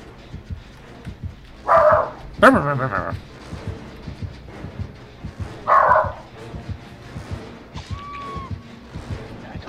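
A dog barks a few times with gaps between in the video game Dead by Daylight, mixed with a brief yelp and background chatter from people nearby.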